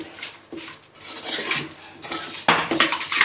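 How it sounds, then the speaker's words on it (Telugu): A metal spoon stirs chopped onions in a pot while gongura chicken is being made. The scraping and clinking are irregular, close and fairly loud, with no talking. "ఉల్లిపాయలని ఇప్పుడు ఇదంతా మంచిగా కలపాలి."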